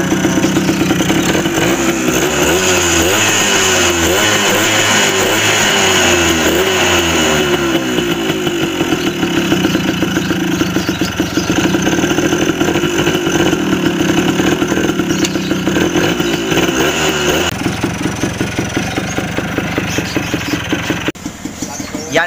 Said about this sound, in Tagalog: nakita nyo naman yung performance at yung kung paano yung andar ng Yamaha RS100 tahimik na tahimik